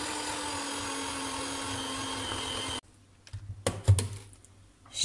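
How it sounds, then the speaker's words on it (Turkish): An electric mixer whisks cake batter after flour and baking powder have gone in, a steady whirring hum that stops abruptly partway through, leaving clinks and bowl knocks before the motor starts again at the end. "Şimdi tekrar çırpıyoruz."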